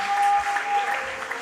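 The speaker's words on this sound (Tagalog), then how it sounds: "ay pumalakpak muna ng malakas na palakpak." A church congregation applauds loudly together at a preaching service, a steady dense wash of clapping that holds evenly throughout with no voices over it.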